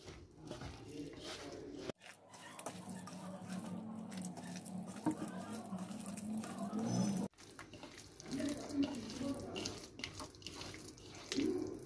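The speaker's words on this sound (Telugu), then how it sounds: "కొన్ని కొన్ని వాటర్ యాడ్ చేసుకుంటూ లూజ్గా ప్రిపేర్" Water is poured into pakora batter and mixed by hand, producing wet splashing, squelching and stirring sounds close up, continuous with a couple of brief breaks.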